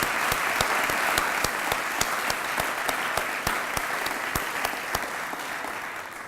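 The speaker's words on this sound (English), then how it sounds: "we all owe RTV6 and Larry and his team a heartfelt round of applause" An awards ceremony audience at the Jefferson Awards gives a sustained round of applause, dense clapping with a few sharp, close claps standing out at a steady beat throughout.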